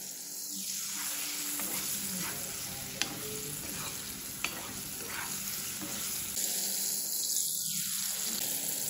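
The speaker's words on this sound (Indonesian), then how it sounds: "Setelah di kayak gini, lanjut langsung digoreng aja." Gourami fillet coated in dry flour fries in hot oil with a dense, steady sizzle and crackle, with a couple of sharp pops and a gentle rush of water in the background.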